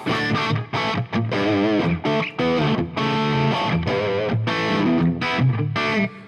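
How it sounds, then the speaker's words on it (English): Distorted electric guitar through a Fractal preset playing a riff of chords and bends, with a washy, echoing reverb tail filling the gaps between notes. "One important thing is also the reverb."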